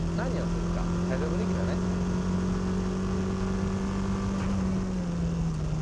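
A lowered car being driven sideways in a drift, its engine holding a steady, loud drone with slight pitch shifts, while someone talks over it.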